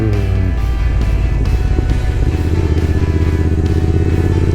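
A Royal Enfield Interceptor 650 motorcycle on the road, its engine droning loud and close with a steady throbbing rumble that drops to a lower, smoother pitch partway through, as if shifting gear.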